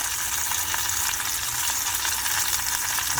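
Corn kernels sizzling in butter in a pan as they cook on residual heat with the burner off, a steady, dense frying crackle that fills the whole moment without any voices.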